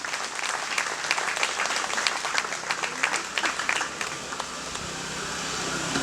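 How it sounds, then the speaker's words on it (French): Audience at a youth congress applauding steadily after a speech, a dense sustained clapping crowd that eases slightly toward the end. "Applaudissez-vous, s'il vous plaît."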